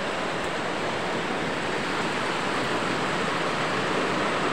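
Heavy rain pours steadily during a storm in the Bacolod City area, a dense, continuous broadband roar with no breaks, loud and close throughout.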